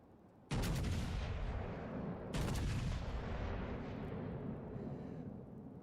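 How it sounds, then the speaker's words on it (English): Heavy 14-inch battleship guns of the Leon fire in World of Warships Legends: two booming salvos about two seconds apart, each a sharp loud blast that rolls into a long rumbling decay, with no talking. "It's a sad day when the Leon's 14-inch guns are firing armor piercing"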